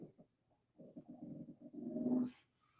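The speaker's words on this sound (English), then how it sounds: "Ray, stop barking." A dog barks and growls indoors in a low, muffled run of rapid woofs and grumbles, a couple of short sounds first and then a longer sustained rumbling stretch, fairly faint.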